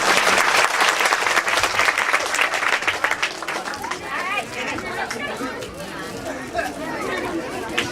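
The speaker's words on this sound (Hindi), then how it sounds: "ताली मारिए।" Audience applause at an award ceremony, loud sustained clapping from a large crowd that gradually thins into chatter and murmuring voices.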